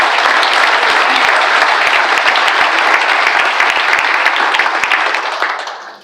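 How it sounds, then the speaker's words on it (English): Audience applause at an awards ceremony, a steady dense wash of clapping from a large crowd that holds at full strength for about five seconds and then fades out quickly. "Give them a round of applause because they deserve it."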